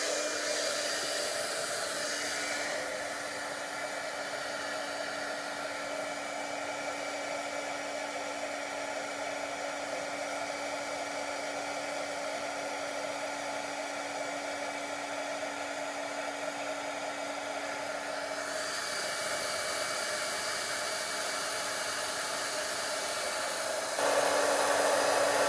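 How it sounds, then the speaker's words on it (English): Heat gun blowing to dry stamped ink on soft suede cardstock, a steady loud whooshing roar that runs continuously for the whole stretch, swelling slightly louder near the end. "So get ready for the heat gun."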